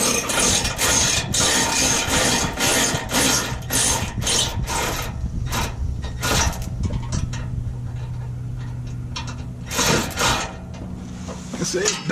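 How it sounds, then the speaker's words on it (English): An electric wrench works on a 2016 Ford F150 2.7 EcoBoost V6 during an oil change, giving loud, rapid bursts of mechanical rattling in quick succession that thin out into sparser clicks and clatter. "If you have a electric wrench, it works wonders."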